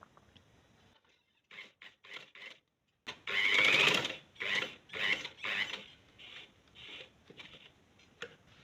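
A sewing machine stitches fabric loops in short, quiet bursts of rapid mechanical whirring and clatter, stopping and starting several times with brief pauses, close up and with no voices.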